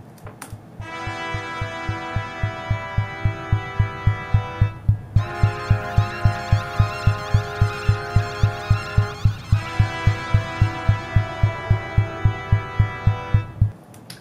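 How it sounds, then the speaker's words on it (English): Orchestral film score with sustained trumpet chords over a steady, driving low thump repeating at a quick even pulse throughout. "I added trumpets and this driving pulse, which is really the heartbeat of the entire score"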